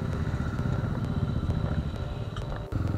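A group of motorcycles rides away from a showroom toward a highway meetup, their engines thrumming steadily and close by with a mid-pitched, continuous rumble and light clatter throughout.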